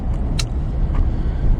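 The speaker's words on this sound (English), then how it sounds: "why is there traffic?" Steady road traffic, a continuous low rumble of passing cars heard from nearby, with a brief higher hiss or squeal partway through.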